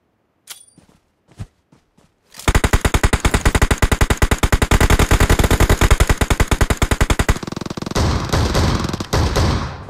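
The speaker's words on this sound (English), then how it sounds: "Getting shot at from the distance." Sustained rapid automatic gunfire in a video game, a few isolated shots first, then a loud steady machine-gun stream of evenly spaced rounds for several seconds, followed by a rougher, slightly duller burst.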